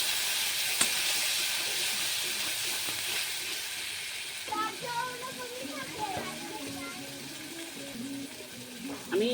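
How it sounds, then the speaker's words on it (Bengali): Mustard and poppy seed paste sizzles steadily in a hot pan while a Bengali bata fish dish is cooked, a continuous close hiss with a voice talking over the second half. "দিয়ে এবার আমি এই সরষে পোস্তের পেস্টটা এর মধ্যে দিয়ে দেবো।"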